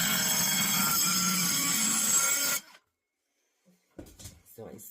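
Blade cutting a half-circle cut, a close steady rasping scrape that runs for a few seconds and stops abruptly, followed by silence and then a few faint handling noises.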